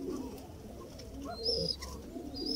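Pigeons from a 70-pound working pair, kept in a brooding setup, coo softly and steadily in a low murmur over faint background noise, with a few brighter chirps overhead.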